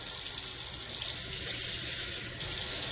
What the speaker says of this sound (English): if you like, you can add a little bit of water